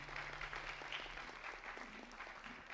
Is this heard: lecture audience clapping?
yes